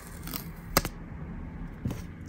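Protective film is peeled off a MagSafe Duo charger in a quiet room, with a few short crackling tears and soft rustles, close to the mic.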